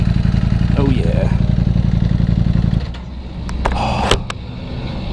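Ducati V4 Panigale motorcycle engine running loud and steady close by, its rumble dropping to a lower, rougher idle partway through, with brief clicks and clatter on top.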